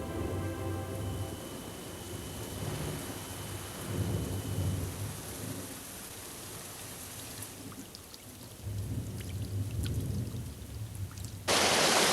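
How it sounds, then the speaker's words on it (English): Rain falls steadily while low thunder rumbles in the distance, swelling and fading; near the end the downpour suddenly grows much louder. "The colours of autumn include the steely greys of an approaching storm."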